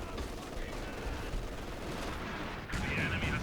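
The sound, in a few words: artillery barrage in a strategy video game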